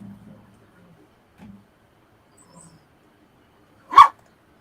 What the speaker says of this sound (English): Sorry about the noise, guys. I just fed the pooches.